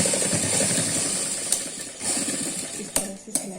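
Sewing machine stitching fabric for a kurti jacket: a steady, close mechanical whirring rattle running throughout, broken by a few sharp clicks near the end, with no talking.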